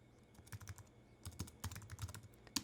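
Fast typing on a computer keyboard close by, with quick irregular key clicks in short bursts and no talking.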